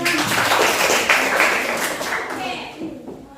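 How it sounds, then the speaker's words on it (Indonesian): A class of students in a school classroom gives a burst of dense, fairly loud applause after a drama performance, fading out toward the end, with voices underneath. "Kasih tepuk tangan untuk Drama."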